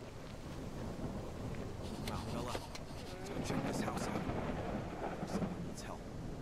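Rain drums steadily on a helmet visor with rolling thunder in the horror game Baisu, a dense continuous wash of patter and low rumbles lasting throughout.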